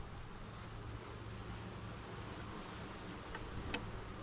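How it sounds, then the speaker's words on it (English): Honey bees swarm around an open hive during a late-summer inspection, a dense continuous hum close by with a constant high whine over it and a couple of faint clicks near the end. "there's just so many bees"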